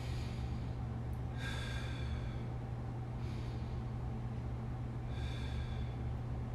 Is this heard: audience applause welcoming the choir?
no